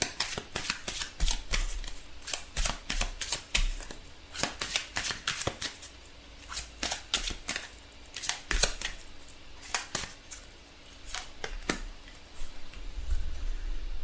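Tarot cards being shuffled and drawn for a love advice reading: a rapid run of crisp riffling snaps and slaps, close and fairly loud, repeating in quick bursts throughout with no talking.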